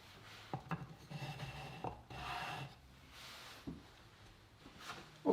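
A bicycle's front wheel is pushed into a wooden bike hanger and locked with a half-inch dowel, giving close wooden rubs, knocks and rasping scrapes with a few sharp bumps over quiet room tone.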